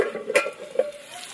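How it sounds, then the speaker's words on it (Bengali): Potatoes fry in a pan, giving a soft, faint sizzle broken by a couple of brief stirring scrapes. "আলুটাকে এবার ভালো করে কিন্তু ভেজে নিতে হবে"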